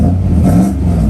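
A Mercedes W140 with a misfire and a clogging fuel filter runs close by, its engine giving a loud, rough, steady drone that swells slightly as it revs.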